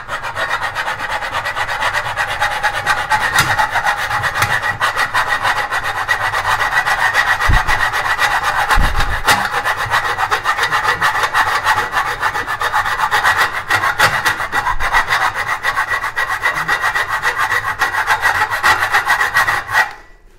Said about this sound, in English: I'm ready now to file this back edge out